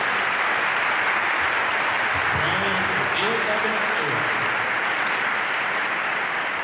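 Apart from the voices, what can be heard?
congregation applause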